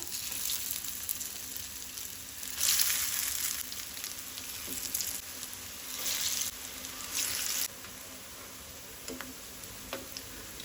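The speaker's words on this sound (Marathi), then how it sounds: "तुमकां डीप फ्राय करपाचें जाल्यार डीप फ्राय करा, नाहीतर शॅलो फ्राय करा।" Goan coriander vadi (kothimbir vadi) shallow-fries in a pan over a medium flame, a loud close sizzle that swells in bursts and then settles to a softer hiss with occasional ticks and pops; no voices.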